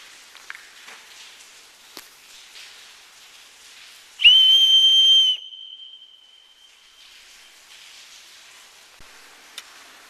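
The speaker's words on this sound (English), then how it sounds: "Let's blow the emergency whistle." A loud, shrill emergency whistle blown once in a steady blast of about a second, ringing with bright overtones, heard from a camping spot near an abandoned turnpike tunnel; a thin fading tone lingers afterward over quiet outdoor ambience.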